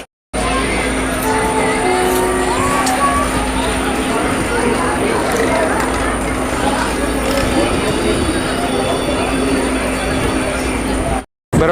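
An Indian express train, the Barauni Gondia Express, passes alongside at close range, a steady loud rumble of wheels and carriages that continues throughout with faint squeals, heard from inside another moving train.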